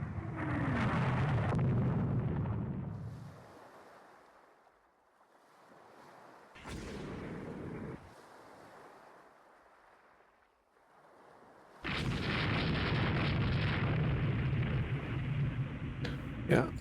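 Torpedo strikes explode in the naval strategy game Rule the Waves 3, with a Japanese fleet blockading China in 1893: heavy rumbling booms with wave-like roar, one burst early, a short blast midway, and a long loud swell near the end.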